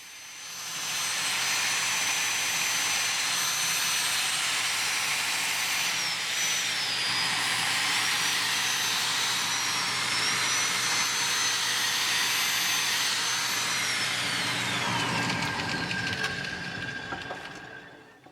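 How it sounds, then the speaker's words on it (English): A power sander whines against the inside of a small curly maple bowl spinning on a lathe, a loud, steady high-pitched drone that runs for most of the stretch before winding down at the end. "the inside of the bowl is power sanded as well"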